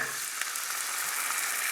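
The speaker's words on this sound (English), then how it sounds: "You want to deglaze that with white wine." A pan sizzles loudly and steadily as white wine hits it for deglazing, a bright continuous hiss with small crackles and no talking.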